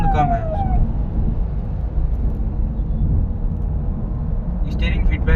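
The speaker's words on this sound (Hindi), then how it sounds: "इंजन साउंड हल्की सी ज़्यादा आती है आज की गाड़ियों के मुकाबले।" A Nissan Kicks car engine drones steadily while driving in second gear, a low continuous hum heard from inside the cabin, with a passing tone and brief background voices.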